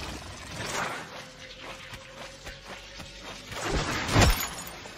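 Glass shatters and breaks in a Warframe railjack tech demo, with crashing and cracking through the stretch and a louder smash near the end, moderately loud and with no speech.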